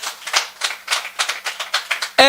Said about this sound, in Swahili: let's appreciate them kwa makofi